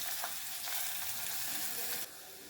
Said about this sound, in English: I add in the chopped onions.